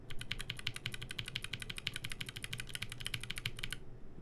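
Rapid, steady typing on a mechanical keyboard fitted with lubed Blackberry switches, the keystrokes clicking close and crisp in a dense run that stops just before the end.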